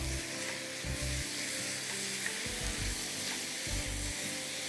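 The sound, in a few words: minced meat frying with onions in a pan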